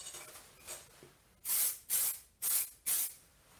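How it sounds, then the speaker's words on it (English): Fixative sprayed from a can onto a cylinder drawing comes in four short, loud hissing bursts at an even rhythm, close to the microphone, after a quieter stretch with faint handling noise. "Okay, now let's spray fix."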